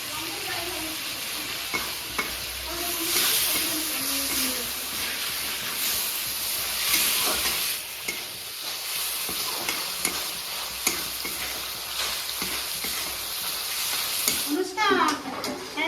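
Prawns with salt, turmeric and split green chillies fry in a pan, giving a steady close sizzle and hiss with repeated scraping stir strokes throughout and a louder flurry near the end.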